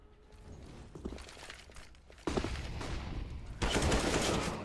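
Rapid bursts of rifle gunfire ring out in a Counter-Strike match, starting faint and growing louder in two distinct surges toward the end.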